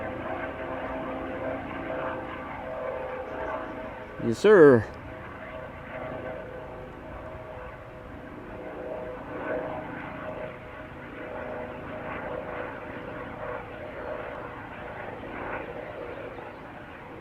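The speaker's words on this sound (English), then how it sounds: "I'm hearing a helicopter." A Lifeliner medical helicopter flies overhead near an airport, heard as a faint, distant, steady engine drone throughout. Someone briefly speaks partway through.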